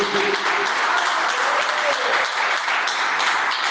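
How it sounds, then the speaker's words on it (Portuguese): A church congregation at a New Year service breaks into loud, sustained applause, a thick uninterrupted roar of clapping from many people filling the room. "Dê uma linda salva de palmas para esse Deus maravilhoso."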